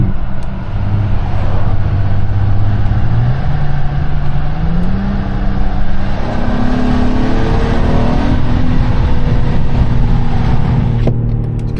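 An Acura TLX with a custom DIY valved exhaust, valve closed, gives a deep, smooth, muted drone that rises steadily in pitch as the car accelerates, then eases back, close and continuous with no talking.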